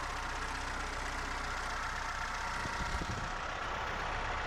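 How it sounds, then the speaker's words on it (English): A 2121 Lada Niva engine idles steadily after a carburetor install, with a deep, constant low rumble throughout, close and alone. "This does sound like a proper engine now."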